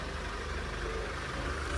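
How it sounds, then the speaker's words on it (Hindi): A Mahindra Alturas G4 SUV engine idles steadily with a low, constant rumble, close by and uninterrupted. "और इंजन साउंड सुन लो, स्टार्ट हो रखी गाड़ी।"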